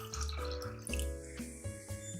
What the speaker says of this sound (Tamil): இப்போ இதுக்கு கூட தேவையான அளவு தண்ணியை சேர்த்துடலாம்.